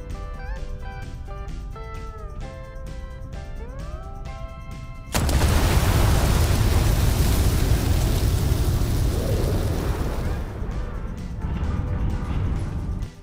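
Tonal Starfield game music and effects give way to a sudden loud explosion, followed by a long roaring rumble that slowly fades, close and dominant.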